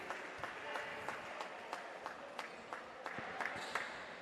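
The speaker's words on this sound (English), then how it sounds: "And the crowd applauding him." Scattered applause and crowd noise from spectators at a men's B Division basketball final as an injured player gets back to his feet, steady and moderate with sharp individual claps and a voice talking over it.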